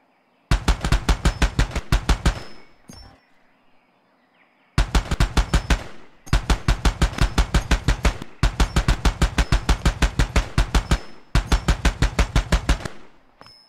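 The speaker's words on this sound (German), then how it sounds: "da geht wohl Munition hoch" Ammunition cooking off in Far Cry 2: rapid loud bursts of popping shots in long rattling strings, broken by a short quiet gap, then several more sustained volleys close by.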